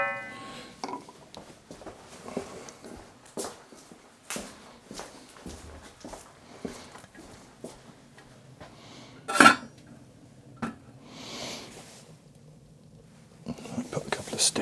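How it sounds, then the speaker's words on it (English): Pots, pans and lids clatter in a kitchen while a cook fetches a lid during a beef roast on a wood-burning stove. Scattered sharp metallic clanks and knocks come amid quiet footsteps and soft murmured talk. "So I'll pop and get a lid."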